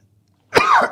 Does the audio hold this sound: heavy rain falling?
no